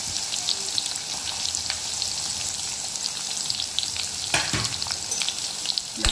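Sliced onion hitting hot oil for a prawn masala, a steady close sizzle and crackle with a few scraping stirs, no voices.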